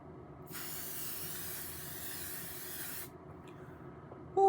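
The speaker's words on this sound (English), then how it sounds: "So let's spray the face now." A single steady hiss of setting spray misted onto a face runs for about two and a half seconds, close and fairly quiet, followed by a small click.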